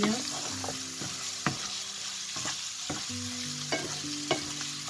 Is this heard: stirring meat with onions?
yes